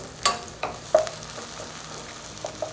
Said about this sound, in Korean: 기름에 파가 볶아진 소리가 참 듣기 좋죠?